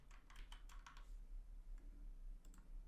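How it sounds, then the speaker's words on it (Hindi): Keys clatter on a computer keyboard, a quick burst of close, quiet taps early on, then a few scattered single keystrokes over low hum, with no voices. "नई फाइल बनाऊँगा, टाइप किया, और एक्सटेंशन है conf"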